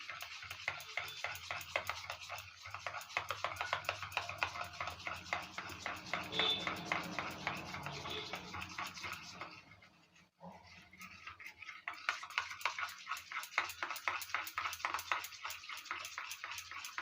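Fried gram flour being mixed into 250 grams of curd for a doi curry, a steady rapid scraping and stirring rhythm that runs close and continuous, pausing briefly midway before resuming.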